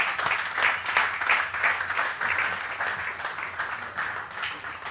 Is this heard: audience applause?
yes